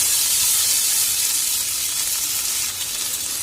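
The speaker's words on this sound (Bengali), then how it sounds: "এই তেলের মধ্যে আমি জিরে আর শুকনো লঙ্কা দিয়ে দিচ্ছি। এবারে এই আলুগুলো আমি দিয়ে দিচ্ছি" Potatoes drop into hot oil already seasoned with cumin seeds and dried chilli, giving a loud, steady, close sizzle and hiss that holds throughout with no voices.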